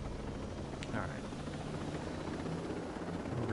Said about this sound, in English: I'm going to drive the helicopter like this.